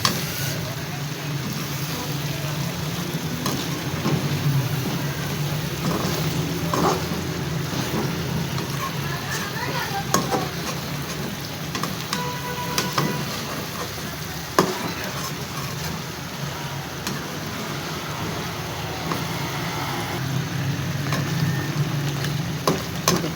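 Chicken masala with yogurt frying in a pan on high flame, a steady hiss and sizzle with occasional stirring scrapes and clinks running throughout.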